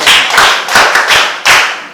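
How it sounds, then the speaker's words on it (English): A class of students claps together at the end of an art and design lesson on dyes and pigments, several short bursts of close, loud hand claps with no talking. "Let's clap for ourselves."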